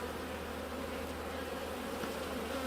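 Bees hum in a steady, dense drone at an apiary, a close continuous buzz with no pauses or voices.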